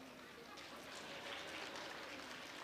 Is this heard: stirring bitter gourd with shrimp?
no